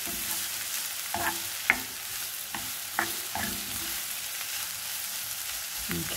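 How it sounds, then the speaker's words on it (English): Garlic sizzles in a hot pan with chicken and shiitake mushrooms, a constant frying hiss broken by several soft scrapes and clinks as a utensil stirs. "I'm going to put the garlic."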